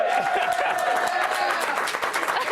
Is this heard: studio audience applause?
yes